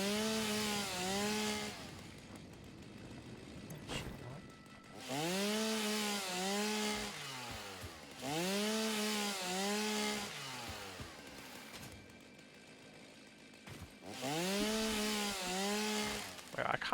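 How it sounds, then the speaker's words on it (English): Chainsaw revving and cutting in the factory-building video game Satisfactory, coming in repeated bursts of rising and falling engine whine with short gaps between, loud and close, with voices talking underneath. "here you are with the chainsaw"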